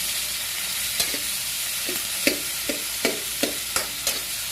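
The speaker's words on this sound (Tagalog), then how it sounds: "Pagitawin lang po natin ito na kamatis." Tomatoes sauté in a hot pan, giving a continuous sizzle that is broken by a regular series of spatula taps and scrapes, about one per half second, close up and without speech.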